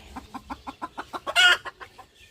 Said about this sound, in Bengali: এই আমার হলো মুরগি